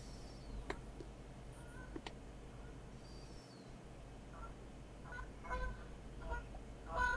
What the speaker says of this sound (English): Can you hear geese?